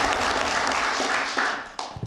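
Applause for a State of the Union response speech, a crowd clapping steadily before thinning out near the end into a few separate, louder claps.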